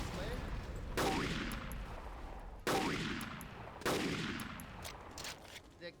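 A Gatling gun fires in a video game, giving three loud, close bursts of heavy gunfire spaced over several seconds. Each burst has a booming onset and a long rumbling decay.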